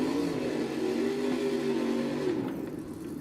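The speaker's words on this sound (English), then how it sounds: "That truck is way too loud." Monster truck, the Avenger, in a BeamNG Monster Jam freestyle event in Orlando, holds a loud, droning engine rev with a steady low tone that eases off near the end.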